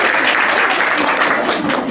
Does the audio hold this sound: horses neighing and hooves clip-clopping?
no